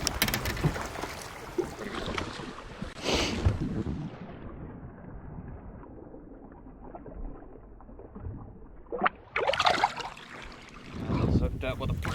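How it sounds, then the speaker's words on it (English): New fishing boat running over open water, with a rushing hull and wind roar that swells, fades to a lower hum, then rises again; people talk over the noise at times. "The boat's driving good,"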